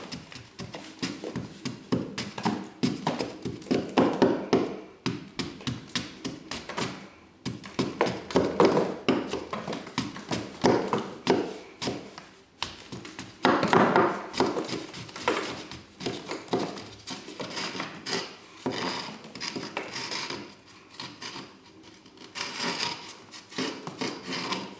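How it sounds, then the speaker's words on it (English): Steel chisel scraping and gouging out wall plaster by hand to seat an electrical back box, a steady run of rasping, scratching strokes up close and fairly loud, continuing with brief pauses and no voices. "you can then just chisel out the centre using a chisel"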